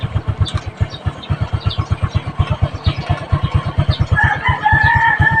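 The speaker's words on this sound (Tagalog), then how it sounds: "Motor ko." A motorcycle engine idles close by with a steady, fast low chugging pulse. A rooster crows in the background toward the end.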